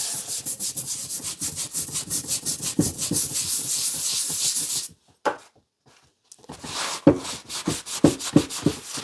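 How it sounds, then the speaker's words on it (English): A nylon brush scrubs an antique axe in rapid back-and-forth strokes, loud and close, pausing briefly midway before shorter uneven strokes resume. "Got the nylon brush first. There's a nice gentle cleaning."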